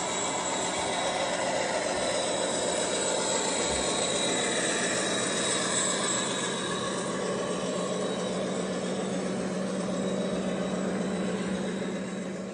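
A Cavalex Class 56 model diesel locomotive runs with a steady, even hum and whirring motor drone, its fan noise muffled inside the body, continuous and close throughout with no talking.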